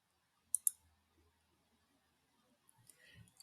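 A computer mouse gives two crisp, close clicks in quick succession, then quiet, followed by a faint shuffle and brief soft voice near the end.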